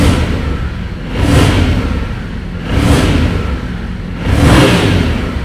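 A Yamaha Ténéré motorcycle engine revs up three times, each time swelling loudly before settling back to idle. It sounds close and steady, with no talk over it.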